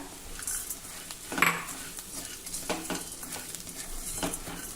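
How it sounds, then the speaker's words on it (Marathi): Crushed sandge roasting with turmeric and red chili in oil in a pan, with steady stirring, spoon scrapes and clinks against the metal over a soft continuous sizzle, close and moderately loud. "आता ह्या सर्व मसाल्यांबरोबर तेलामध्ये एक दोन मिनिटासाठी हे सांडगे आपल्याला जरा भाजून घ्यायचे आहे"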